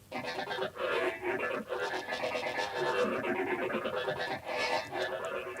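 A synth bass line from Omnisphere in Logic, run through a micro phaser so its tone sweeps and swirls, plays steadily as a quiet, busy pulsing phrase with no talking.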